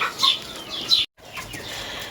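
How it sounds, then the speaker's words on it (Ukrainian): Hens cluck in short bursts close by, two sharper calls standing out over soft barnyard noise, with a brief silent gap. "Наші курчатка вже повставали, треба їм їсти давати."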